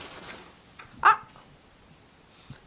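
An African grey parrot gives a single short, mid-pitched meow-like call imitating a cat, heard once amid faint room noise and soft background babble.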